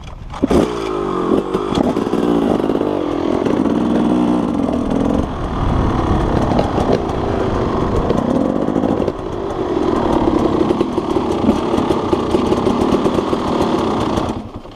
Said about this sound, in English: Start our bikes up.